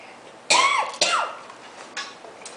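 Two sharp coughs close together, followed by a softer third one, loud and near with no talking.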